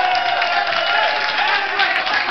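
A live audience bursts into sustained applause and cheering after a host calls for it, a dense, even wash of clapping from a crowd that holds steady for a couple of seconds.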